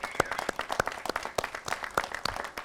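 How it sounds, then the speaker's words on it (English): Applause from an audience at a ribbon cutting ceremony, a smattering of separate, fairly sparse claps, moderately close and not very loud, with no voices over them. "Please join me in a round of applause for that magnificent accomplishment."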